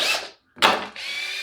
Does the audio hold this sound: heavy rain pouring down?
no